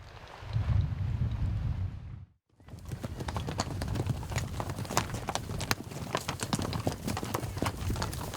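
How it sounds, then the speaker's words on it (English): A herd of horses stampedes across rugged ranch terrain, many hooves drumming in a dense, continuous clatter that breaks off for a moment, then resumes, loud and close, with no talk. "a stampeding horse herd"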